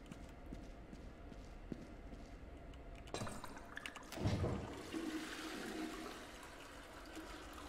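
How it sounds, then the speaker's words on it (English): A toilet flushes in the horror game Boris and the Dark Survival, a sudden gush of rushing water that swells and then drains away, preceded by faint thudding footsteps in a quiet space. "Do I have to flush all the toilets?"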